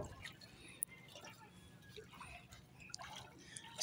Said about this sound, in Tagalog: Pero okay lang naman po dahil ulan lang.